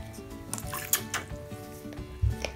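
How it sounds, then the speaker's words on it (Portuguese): A toy baby bottle is squeezed underwater and released so it fills with water, making soft gurgles, squishes and small bubbly pops at close range. "Você aperta a mamadeira dentro da água e solta. Aí ela enche de água."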